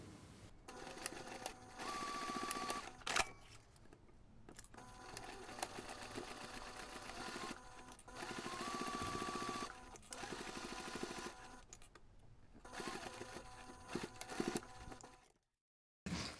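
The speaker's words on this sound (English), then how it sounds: "we're going to sew that short edge using 1 centimeter seam allowance" A sewing machine stitches the short edge of a fabric bag in several steady, whirring runs separated by short pauses, moderately close and with no speech.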